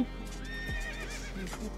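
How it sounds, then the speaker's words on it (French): A mule, a cross between a horse and a donkey, neighs with a wavering whinny, fairly close, over steady low background noise, with faint hoof sounds. "il y a un croisement entre un cheval et un âne, ce qui donne une mule"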